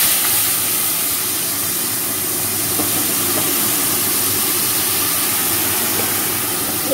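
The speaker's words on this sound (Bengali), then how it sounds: "তো এই তেলটার মধ্যে আগে আমি কিন্তু জল দেব।" Water poured into hot oil in a pan hisses in a loud, steady roar that holds unchanged for about seven seconds and has no talk over it.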